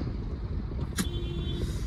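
Busy road traffic at the Chakki Naka junction: a steady low rumble of engines with a brief passing vehicle and faint tonal sounds, fairly close and continuous.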